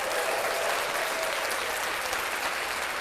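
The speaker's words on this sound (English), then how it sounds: "We're going to immediately clap that up." A small studio crowd on a podcast set claps steadily and loudly for a few seconds, an even, continuous burst of applause with no speech over it.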